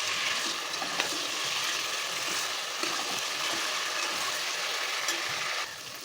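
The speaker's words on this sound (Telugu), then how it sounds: "బంగాళదుంపలు వేగుతుంది కదండి ఇందులోనే టమాటాలు కూడా వేసేస్తాం ఒకసారి కలుపుతుంది" Potatoes and tomatoes fry in chicken curry, giving a steady, dense sizzle that holds close and even throughout, easing slightly at the very end.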